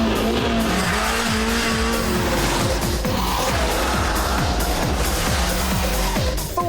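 A 2-litre Ford Fiesta engine revs hard and accelerates, the pitch climbing repeatedly through the gears with short drops at each shift, loud and close throughout.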